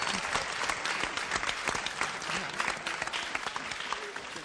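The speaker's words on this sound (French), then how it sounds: "On peut applaudir Fatih de l'agence Eben Elegance." Audience applause for a stylist's entrance at an evening show event, steady dense clapping that fills the room from start to finish with no voices over it.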